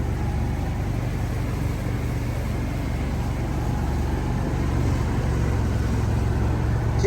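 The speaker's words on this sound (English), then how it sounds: "give it some gas." An Argo amphibious ATV engine runs steadily with a broad, loud mechanical drone outdoors, swelling slightly as the throttle opens near the end.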